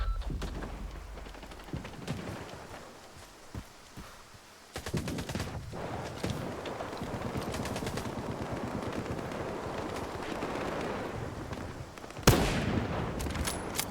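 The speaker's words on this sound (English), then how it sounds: "that gun sounds like a monster" Heavy gunfire in the video game S.T.A.L.K.E.R. 2, with rapid automatic bursts and sharp cracks over a rumbling battle bed that turns dense and loud in the second half, ending on a hard blast.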